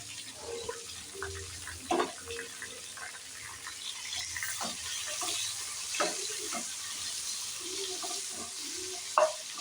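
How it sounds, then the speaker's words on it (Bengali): Chopped garlic, onion and tomato sauté in a pan, with a steady close sizzle broken by the scrape and clatter of stirring at irregular moments. "পেঁয়াজ টমেটোটা হালকা করে সতে করা হয়ে গেছে।"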